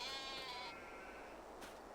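Sheep bleat on a farm, a mixed flock of black, brown, white and black-faced animals, with one clear, fairly close bleat early on and a softer call trailing off against steady outdoor background noise.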